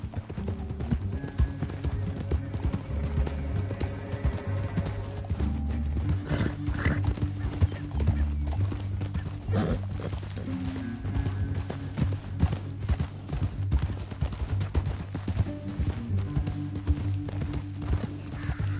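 Rapid horse hooves clatter in a steady galloping rhythm in Red Dead Redemption 2, continuous and fairly loud, with a low rumbling bed beneath.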